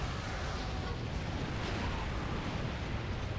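A video game explosion roars as a dense, continuous rumbling blast that fills the whole clip at steady loudness, with no talk over it.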